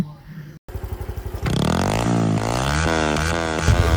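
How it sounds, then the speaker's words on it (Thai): A motorcycle putters at idle, then its engine revs hard and climbs repeatedly, loud and close. "ถ้าเองมาบิดรถหน้าศาลเจ้าแม่ธนะเองสมหวังปรารถนาทุกอย่างแน่นอน"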